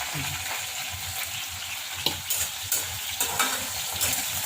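Green chilies sizzle and crackle in hot oil in a pan, a steady frying hiss broken by a few spatula scrapes and pops.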